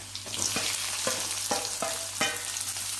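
Onions sauté in oil with ginger garlic paste, a steady sizzle punctuated by about six regular scraping stirs of a spatula in the pan, heard up close without any talking.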